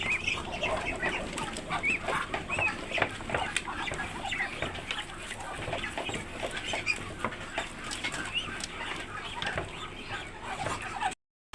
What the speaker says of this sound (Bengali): বাইরে দেখুন কত চুনা হাঁস পাড়াপাড়ি লাগেছে বাইরে হওয়ার জন্য।